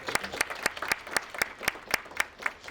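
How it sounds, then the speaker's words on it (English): Steady hand clapping from an audience at a symposium, a rhythmic patter of claps at moderate distance, fairly faint and continuous. "Let's give that a round of applause."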